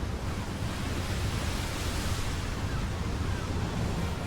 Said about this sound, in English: We're pushing 45, 50 mile an hour winds, and the tops of these waves are starting to get blown off